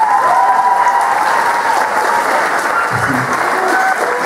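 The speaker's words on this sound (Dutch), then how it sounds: "dat is echt een applaus waard" Warm applause fills a school room after a child's guitar and singing performance, a dense, steady clapping from an audience that stays loud throughout.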